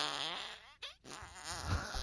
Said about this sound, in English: Here comes a squeaky fart.